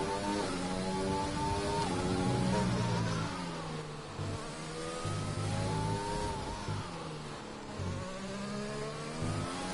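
A racing car engine whines and revs through gear changes as it finishes a lap of the Russia circuit in a sim racing league, with a loud, buzzy, rising and falling tone throughout.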